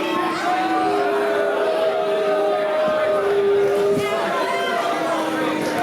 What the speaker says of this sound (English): the crowd's starting to turn on him here